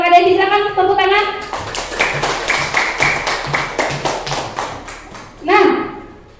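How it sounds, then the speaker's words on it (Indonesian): A class of children claps hands together in a quick, rhythmic pattern for several seconds, bracketed by a teacher speaking before and after. "Silakan tepuk tangan."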